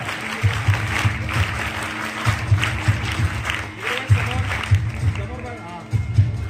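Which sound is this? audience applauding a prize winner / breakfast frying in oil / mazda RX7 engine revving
audience applauding a prize winner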